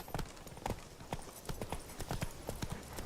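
Roach the horse galloping in The Witcher 3, a quick, steady rhythm of hoof clip-clops on the ground, fairly close and even throughout.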